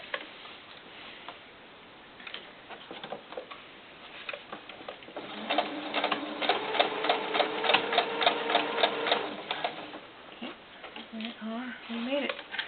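Home sewing machine stitching a fur-trimmed doll beret, a fast rapid ticking run of stitches for several seconds in the middle, with quieter handling before and a short voice near the end.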